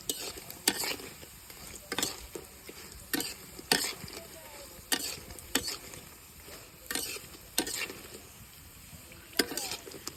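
Spinach pakoras fry in a pan with a sizzling hiss, punctuated by regular sharp scraping and stirring strokes about every second, close and fairly loud, without talk.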